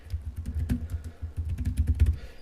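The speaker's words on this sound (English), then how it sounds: "We can just simply start typing." Keys on a tablet keyboard dock clatter in quick, irregular bursts of close, crisp taps with a short pause partway through, no voices over them.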